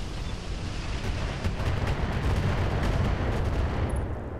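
Sustained heavy weapons fire in the mech combat game Roguetech, a dense continuous rumble of booming shots and blasts with low-end thunder, loud and unbroken for several seconds with no talk.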